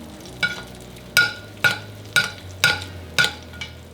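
Bone-in lamb in a frying pan being basted with its hot cooking fat, a low sizzle broken by about seven sharp spoon clinks against the pan at a steady unhurried rhythm.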